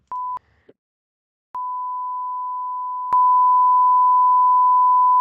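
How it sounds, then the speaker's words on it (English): Steady pure-tone censor bleeps cover a conversation: a short beep, another short one, then a long unbroken tone that gets louder partway through, with almost nothing audible between them. "They're trying to bleep out his information, but they're also bleeping out part of the conversation"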